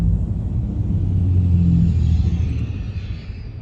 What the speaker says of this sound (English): Got that diesel truck down there.